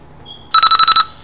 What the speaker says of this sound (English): Set an alarm right quick to show you how loud it is.